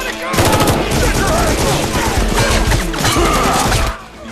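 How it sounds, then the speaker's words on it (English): Loud, dense gunfire from an RG-47 grenade launcher in the Guns of Boom mobile shooter game, rapid blasts merging into a continuous roar for about four seconds before cutting off, with faint voice sounds mixed in. "RG-47 grenade launcher."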